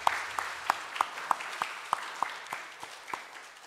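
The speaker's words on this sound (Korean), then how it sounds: "우리 박수 한번 보내드리겠습니다." A church congregation gives a round of applause during a Sunday morning service, about a dozen evenly spaced claps leading a soft, steady wash of clapping that fades slightly toward the end.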